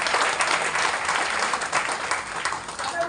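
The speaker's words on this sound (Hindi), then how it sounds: "तालियां होनी चाहिए" Dense, continuous applause from an audience at a training seminar, a brisk wash of many hands clapping evenly throughout a few seconds.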